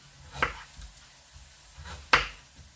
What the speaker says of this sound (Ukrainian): Я хочу тут морку нарізати брусочками.